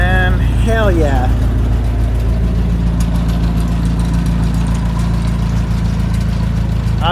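A 1958 Jeep DJ-3A Dispatcher engine runs with no muffler, giving a loud, steady, raw idle throughout, with a voice speaking over it near the start.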